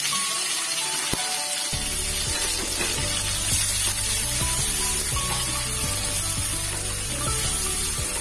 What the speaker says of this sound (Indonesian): Tumis sampai layu dan harum.